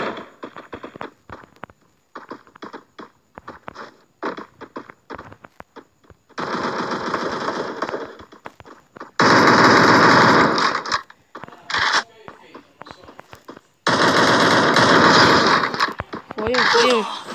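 Rapid bursts of automatic gunfire from the Free Fire battle royale game, loud clattering volleys broken by short pauses, with a voice talking between and over the shots.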